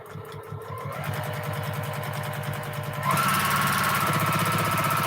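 A sewing machine stitching during free-motion quilting, a rapid steady mechanical chatter that speeds up and grows louder partway through, close and alone.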